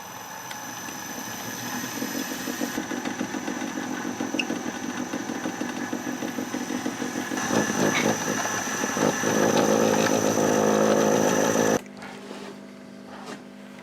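A generator engine runs steadily to power a large asynchronous motor feeding the grid, a close mid-pitched drone with a pulsing rhythm that grows louder before cutting to a quieter hum near the end.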